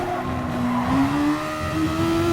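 Race car engine in a racing video game holding a steady high tone through a fast curve, its pitch sliding gradually upward with faint tire noise, loud and continuous with no talk.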